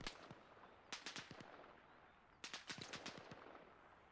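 Distant automatic gunfire from enemy fighters in the ArmA Reforger video game, two faint bursts of rapid rattling shots separated by a short pause.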